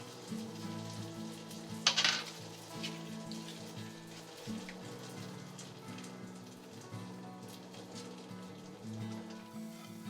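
Almonds and oats toasting in a pan with honey, sugar and vanilla give a steady, soft sizzle and patter like light rain, with a brief louder crackle near the start over a faint music bed.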